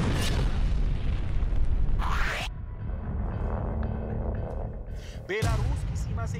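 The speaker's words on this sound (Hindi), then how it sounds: "सिर्फ 25 सेकंड में मिसाइल ने अपने टारगेट को तबाह कर दिया है।" Missile strike destroying its target: deep booming blasts and rumbling, with a sharp burst near the end, heavy and loud against continuous background noise and a voice talking over it.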